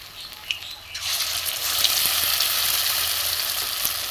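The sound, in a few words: prawn bottle-gourd-leaf patori frying in oil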